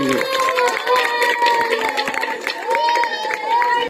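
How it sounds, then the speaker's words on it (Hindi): Audience applause at a community award ceremony where shields are presented to artists, sustained dense clapping from a crowd over almost four seconds with steady loudness, mixed with some tonal sound and voices. "जोरदार ताली होनी चाहिए"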